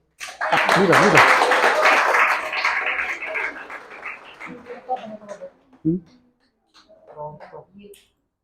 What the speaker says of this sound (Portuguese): Uma salva de palmas para Jus